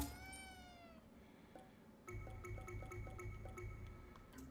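A single cat meow from Ghostwire: Tokyo sweeps downward at the start, quiet and close, then gives way to soft game music with dripping plinks.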